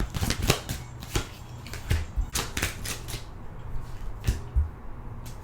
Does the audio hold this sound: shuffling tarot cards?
yes